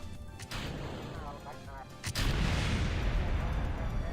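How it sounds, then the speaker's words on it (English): In Kerbal Space Program, a rocket stage separates with an explosive bang: a sharp burst, then a heavier blast that leaves a loud, rumbling roar continuing to the end. "A little bit of an explosion there with the disconnect, no big deal."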